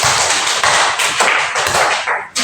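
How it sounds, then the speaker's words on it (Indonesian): Classroom students give a loud, dense burst of applause for a group's answer, steady clapping lasting a couple of seconds before ending abruptly. "Berikan aplaus."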